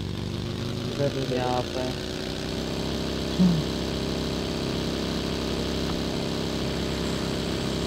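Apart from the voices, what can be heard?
motorcycle engine in the video game BGMI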